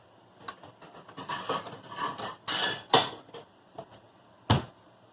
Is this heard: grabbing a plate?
yes